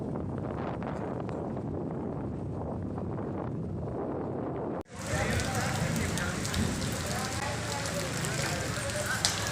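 Evening rain falls in Karnaprayag with a steady, dense hiss, first softer and duller, then after a sharp break brighter and more spattering, as if nearer or heavier on hard surfaces.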